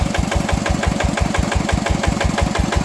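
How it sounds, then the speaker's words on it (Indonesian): An old diesel tractor engine, more than ten years old and nearly twenty, converted to drive a water pump, runs loud and close with a fast, even chugging beat that never changes pace. "Jadi kita memanfaatkan dieselnya, mesinnya, untuk penggerak pompa air."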